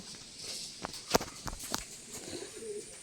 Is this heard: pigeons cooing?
yes